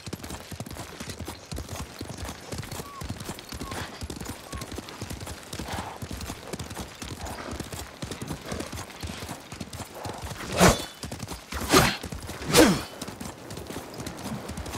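Steady hoof clip-clop of horses moving at a trot in the video game Ghost of Tsushima, with a few sharp louder hits near the end and a brief whinny-like sound.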